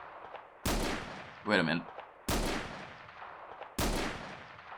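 Gunfire in the video game Where Eagles Dare: three loud, sharp shots spaced about a second and a half apart, each with a decaying tail, plus a short spoken phrase between the first two.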